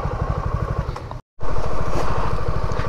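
A Suzuki V-Strom 250 motorcycle idles close by on a mountain road, a steady low pulsing thrum that drops out for a moment before resuming just as strong.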